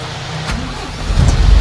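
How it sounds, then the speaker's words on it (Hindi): A diesel-era car engine turning over and catching, a low rumble that swells and grows louder toward the end, close by and loud. "गाड़ी को कर देते हैं स्टार्ट एक मिनट"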